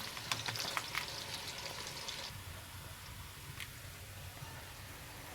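Chicken meat and rice frying in a pot for plov, a steady close sizzle running throughout, busier and crackling in the first two seconds before settling into a softer even hiss.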